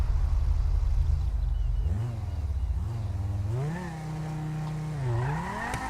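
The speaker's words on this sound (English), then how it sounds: "Alright, we're going to launch it a little bit. So we're going to build some revs." A Dodge Viper in Grand Theft Auto Online builds revs for a hard launch. The engine drones steadily, then surges and dips through several loud, rising revs with faint tire squeal near the end. No talk is heard.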